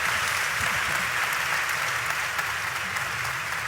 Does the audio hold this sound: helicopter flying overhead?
no